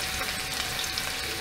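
Finely chopped garlic cloves drop into hot oil for Khandeshi onion bhaji and sizzle in a loud, steady, dense crackle from start to finish, with no voices.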